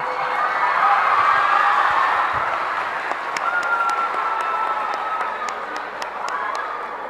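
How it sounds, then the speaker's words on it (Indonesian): A school audience breaks into loud, sustained applause and cheering for a governor at a dialogue event, dense clapping throughout with shouts rising above it. "Kita kasih aplaus buat Pak Ganjar."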